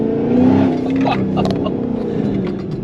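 A Dodge Demon 170 fitted with headers and exhaust revs, its engine note rising and settling in a loud, throaty burst close by, with some voice mixed underneath.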